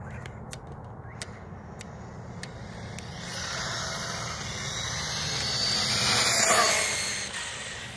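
An Arrma Talion 6s V4 RC car races past at top speed, its high electric motor whine and tire hiss building from a distant hum to a loud peak around six seconds before fading, with a few sharp clicks early on.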